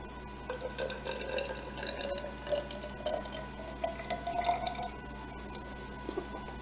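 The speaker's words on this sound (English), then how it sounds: "we're going to go ahead and add the water." Water is poured into warm freeze dryer vacuum pump oil in a beaker, giving faint, intermittent dripping and trickling sounds with small splashes, quiet and close, with no talking.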